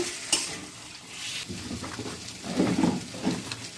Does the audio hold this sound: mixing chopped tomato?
yes